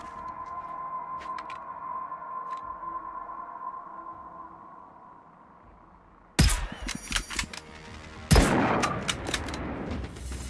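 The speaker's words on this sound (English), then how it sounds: "I love the hunting rifle." Two loud, close hunting rifle shots ring out in the video game Generation Zero, each a sharp crack followed by a ringing tail, after a stretch of quiet humming ambience.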